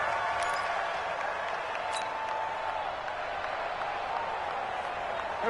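A virtual stadium crowd in a PS4 American football game keeps up a steady murmur and roar with scattered claps and whistles, at moderate loudness and evenly sustained, under the game's play-by-play commentary.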